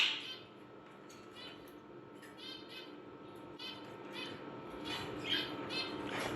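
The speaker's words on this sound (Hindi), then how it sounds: "ये मैना भी बोलती है" A pet myna bird calls indoors in a home with parrots, giving repeated short chirps and whistles in bursts, moderately near over a soft background hiss.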